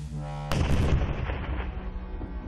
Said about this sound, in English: A shattering explosion.